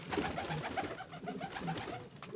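Pigeons coo in a low, repeated, throaty rhythm close by, with rustling and fluttering wings as one bird takes off into the air, steady throughout without voices.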